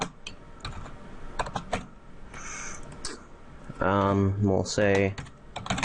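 Code is typed on a computer keyboard as a quick run of close, crisp key clicks, followed by someone speaking briefly.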